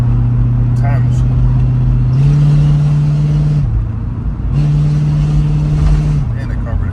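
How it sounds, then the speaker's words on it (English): Carbureted Chevrolet Impala engine running steadily, a low droning hum that swells twice as the throttle opens, heard from inside the car. "And the carburetor sounds good."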